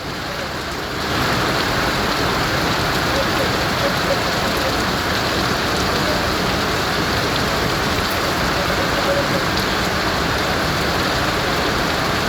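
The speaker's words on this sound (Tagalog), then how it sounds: "Ganun ang ulan dito guys." Heavy typhoon rain pours down in a dense, continuous roar, loud and steady throughout after a brief quieter start, with wind and flooding.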